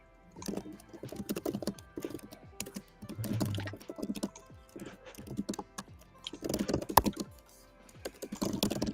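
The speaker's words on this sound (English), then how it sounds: "I can just hear Scarly typing so fucking fast" Rapid typing on a computer keyboard, dense bursts of clicking keystrokes with brief pauses, moderately close and steady across the whole stretch.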